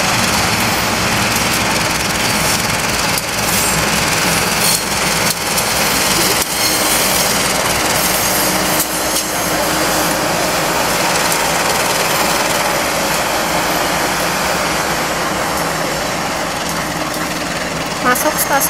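A train enters Leles railway station in Garut, Indonesia, with a loud, continuous diesel engine drone and rumbling wheels close by for the whole span. Faint talk mixes into the noise.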